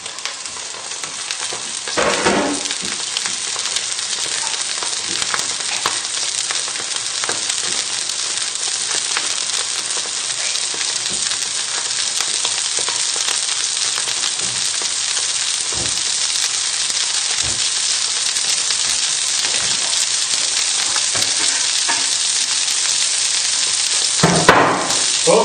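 Cod fillets with a coriander and lemon crust fry in a hot pan, a loud, steady broadband sizzle that holds for the whole stretch, with a few sharp clatters of utensils near the start and end.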